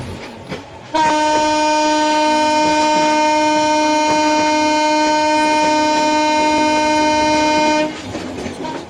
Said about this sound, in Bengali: আস্তে আস্তে দেখি এগিয়ে যাই ট্রেনটা।